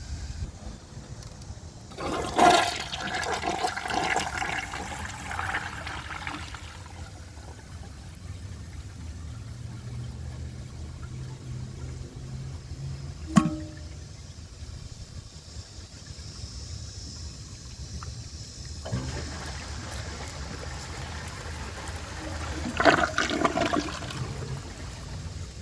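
A 2022 RI Mansfield Summit 10-inch toilet flushing twice, each a loud rushing gush of water that tapers into trickling refill, with quieter running water between and a sharp knock midway.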